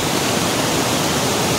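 Rama Tirtha waterfall in Simlipal thunders without pause, a loud, close, unbroken wash of falling water with no other sounds or voices above it.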